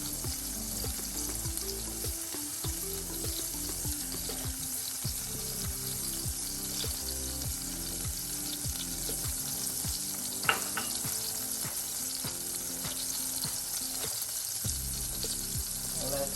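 Vegan wings sautéing in a pan, a steady close sizzle with rhythmic stirring scrapes running throughout, no talking.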